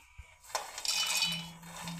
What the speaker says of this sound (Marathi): आता आपल्याला यांना मिक्सरच्या भांड्यामध्ये टाकून घ्यायचं आहे